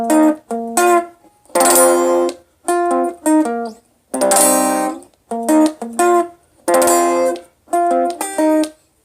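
Guitar slowly playing the chords of a song's intro, loud and close. Short groups of strummed and picked chords alternate with brief silences in a halting, deliberate rhythm, with no voice present.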